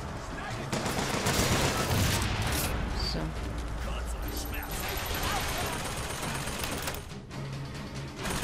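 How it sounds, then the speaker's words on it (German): Gunfire in the video game Bioshock Infinite rattles in dense, continuous bursts, loud and close, with game voices mixed in. "Wer knallt denn da auf mich?"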